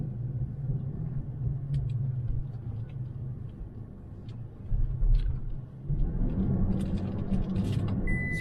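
Toyota Tacoma truck on a road test ride with SumoSprings fitted, giving a steady low engine and road rumble from inside the cab, with a brief louder bump near the middle and a slightly heavier stretch near the end.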